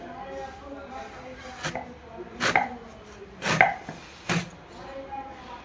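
Four sharp, separate chops of a bladed knife cutting tender young jackfruit into four pieces, fairly close. Faint room noise and quiet voices sit in the gaps between the strokes.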